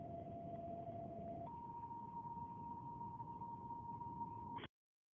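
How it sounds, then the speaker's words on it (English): Fire and EMS dispatch pager tones play as a steady electronic beep that holds one pitch, then jumps to a higher pitch for several seconds before cutting off abruptly, sounding clear and fairly faint. "that beeping noise, that's what happens when they dispatch fire department services or EMS. It's called dropping tones."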